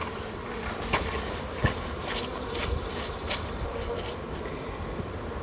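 Honey bees buzz in a thick, steady swarm around an open hive during a split, near and continuous, with a few sharper close passes and light handling knocks.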